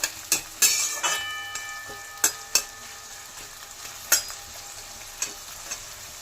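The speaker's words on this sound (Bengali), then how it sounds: "পেঁয়াজ দিয়ে একটু নাড়িয়ে নিয়ে তারপরে কাঁচা লঙ্কা" Onion and green chilli frying in a pan while a spoon stirs them: a steady sizzling hiss broken by repeated bright clacks of the spoon against the pan, close and moderately loud.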